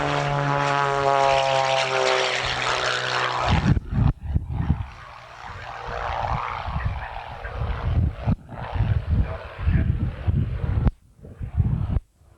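A propeller airplane roars overhead during aerobatics at an airshow in Newtownards, starting as a loud close drone that cuts away abruptly, then continuing as a rougher, fluctuating engine rumble.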